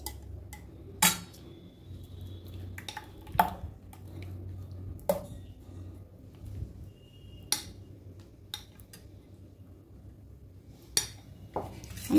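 A spoon mixes milk and curd for mishti doi, a Bengali sweet, making sparse, sharp clinks against the bowl over a low, quiet background hum.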